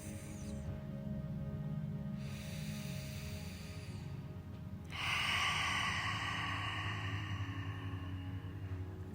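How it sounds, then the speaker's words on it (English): Slow guided breathing in meditation, a soft nasal inhale followed by a longer, breathier exhale through the mouth, faint and close with a low steady background tone. "Inhaling through the nose and exhaling through the mouth."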